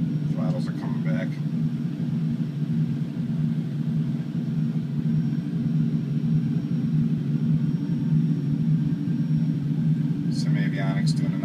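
A Boeing 737 in the X-Plane flight simulator drones with a steady, loud low engine hum as the throttles come back during level-off at altitude, with brief bursts of speech at the start and end.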